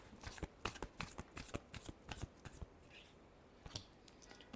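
A deck of tarot cards is shuffled by hand, a close run of crisp riffling and slapping bursts in an uneven rhythm, quiet and alone with no talking.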